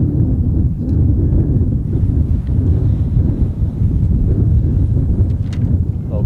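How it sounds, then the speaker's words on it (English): Strong wind buffeting a microphone at an outdoor airfield during a model aircraft flying competition, a loud continuous low rumble with gusty fluctuations. "the wind's really blowing that thing around"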